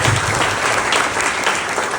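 Students on a college campus in Tapanuli Tengah clap together, a brief burst of dense, fairly loud applause with a lively rattling texture throughout.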